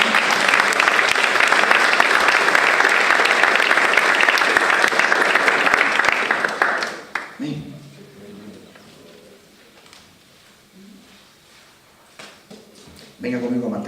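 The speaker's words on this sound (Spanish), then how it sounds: "Dame un aplauso ahora al Señor." A congregation at a priests' retreat church service claps loudly and continuously for about seven seconds, then the clapping drops away abruptly. Quieter scattered sounds and faint voices follow before a brief burst of noise returns at the end.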